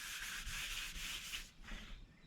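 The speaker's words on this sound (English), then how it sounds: "You could see when I did with the DA, the damp sanding," A dual-action sander damp-sands a car's clear coat, whirring steadily with a smooth, continuous rubbing hiss, easing off and becoming patchier near the end.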